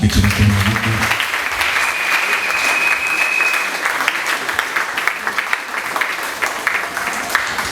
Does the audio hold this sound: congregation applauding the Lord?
yes